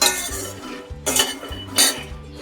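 Peanuts are dry-roasted and stirred in a pan with no oil, making repeated rattling, scraping bursts of the spoon against the metal in an irregular rhythm, close by.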